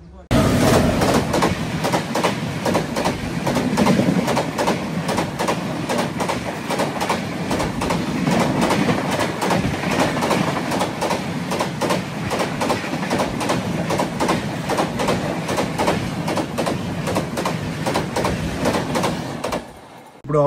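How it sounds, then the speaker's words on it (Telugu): The Prashanti Express rolls past on the adjacent track beside a halted train, a steady close rumble with rhythmic wheel clatter lasting about twenty seconds before fading out. "ఇప్పుడు ఓవర్టేక్ చేసింది కదా ప్రశాంతి ఎక్స్ప్రెస్"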